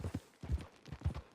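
Horse hooves clip-clop in Red Dead Redemption 2, a close, steady walking rhythm of soft, low thuds with no talking.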